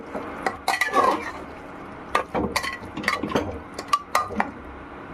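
Metal spoon clanking and scraping around a pot while potatoes are stirred into a mutton curry, in irregular bursts of sharp clinks and rattles separated by brief pauses, close and fairly loud with no talk.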